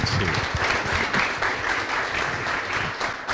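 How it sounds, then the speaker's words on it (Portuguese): Continuous applause from a crowd, dense clapping with murmuring voices underneath, steady throughout. "Top demais, pode aplaudir o Marco, gente."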